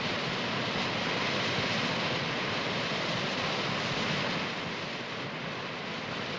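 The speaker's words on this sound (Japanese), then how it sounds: "身が切れるほどの冷たい滝も何のその" A cold mountain waterfall at a temple in Tochigi, Japan, a dense roaring rush of falling water that fills the whole stretch steadily, loud and close, easing slightly near the end.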